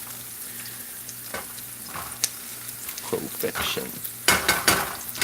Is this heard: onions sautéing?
yes